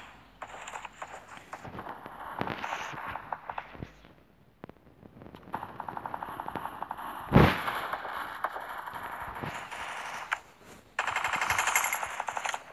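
Video-game gunfire from weapons such as the Desert Eagle, AN-94 and Thompson rattles in rapid bursts, with one heavy blast in the middle and bursts continuing at steady loudness throughout.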